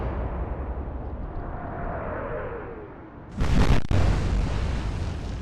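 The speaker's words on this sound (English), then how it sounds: "Quite large explosion aboard Bismarck, that's great." A large explosion aboard the German battleship Bismarck in the naval game Atlantic Fleet: a sudden loud, broad boom with a sharp crack, bursting out of a steady low rumble and tapering into a lingering roar.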